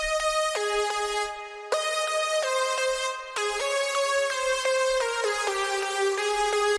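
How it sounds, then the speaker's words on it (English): Lead Together, a single-layer synth lead preset, plays a bright buzzy melody of held and stepping notes. It sounds loud and close, with two brief breaks between phrases. "It's called Lead Together and it sounds like this"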